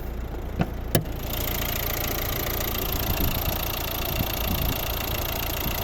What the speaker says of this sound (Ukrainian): Підемо подивимося, як працює двигун.